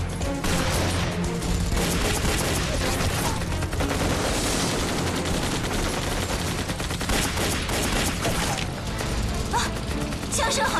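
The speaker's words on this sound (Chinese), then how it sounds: "枪声好像是从前面传来的" Dense gunfire rings out in a wartime drama scene involving illegal arms dealers. Rapid, loud bursts and clattering shots crowd together continuously for about ten seconds.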